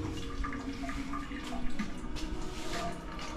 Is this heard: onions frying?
no